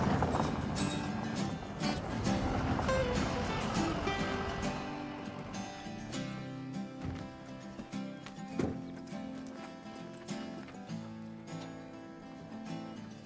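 Cowboys' horses on a large cattle ranch walk along at the start of a cattle drive, their hooves making a steady, continuous clip-clop against a busy background, with an occasional snort or whinny.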